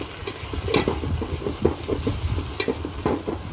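Onions frying in a pan with ginger paste are stirred steadily, a close sizzling bed broken by repeated scraping strokes of the spoon in a quick, regular rhythm.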